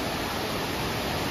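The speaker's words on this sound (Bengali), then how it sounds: "প্রচন্ড স্রোত আজকে মা।" A dense, unbroken roar of fast-flowing water at a hill waterfall, loud and close, with a strong current pouring throughout.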